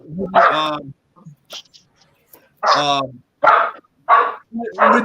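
A dog barks in separate loud, close woofs with short gaps between, and a few softer yips in the pauses.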